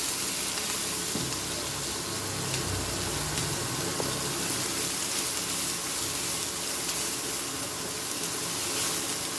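Hing and onions fry in oil for a Goan spinach curry, giving a constant bright sizzle and crackle at an even level, with a few faint clinks from a stirring utensil.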